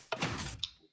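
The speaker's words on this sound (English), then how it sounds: "the door opens." Piston door in a block-building video game slides open, a short soft mechanical whoosh with a faint click at the end, quiet and alone.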